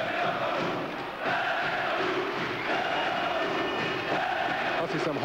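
A packed arena crowd at a 2003 Hungarian basketball championship final between Kaposvár and Körmend roars wildly, a dense, continuous wall of cheering and shouting that barely dips throughout.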